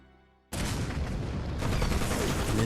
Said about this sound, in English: the silence was broken by the crack of gunfire and the explosion of grenades